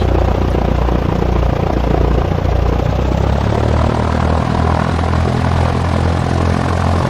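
Propeller aircraft engine in the X-Plane 11 flight simulator during a crosswind landing approach with 20 degrees of flaps at about 1500 RPM; a loud, steady, close droning roar that holds throughout, with no talking.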